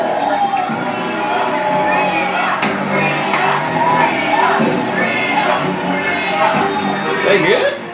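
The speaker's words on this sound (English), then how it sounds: "I guess they're cheering her on because she didn't back down" A crowd in the TV show Chilling Adventures of Sabrina cheering and shouting, a sustained wash of voices with whoops, heard alongside nearby people talking.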